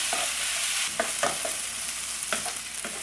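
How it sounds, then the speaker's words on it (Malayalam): Onions, ginger and garlic sauté in a pan for a Malabar chicken curry, giving a steady soft frying hiss broken by several scraping stirs of a spoon, close and moderately loud with no talk. "എല്ലാം കൂടെ നല്ലപോലെ ഒന്ന് വഴന്ന് വരട്ടെ"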